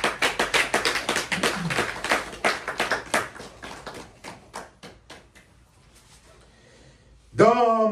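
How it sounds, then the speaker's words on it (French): Congregation at a French-language church service clapping in a rhythmic, fairly close burst that thins and fades out, followed by a voice starting to speak at the end. "Applaudissez le Seigneur Jésus."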